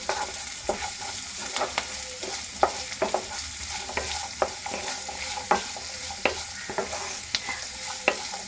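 Finely chopped carrots fry and sizzle in a pan for a breakfast semolina upma, with a steady hiss and regular clicks of a stirring spoon tapping the pan.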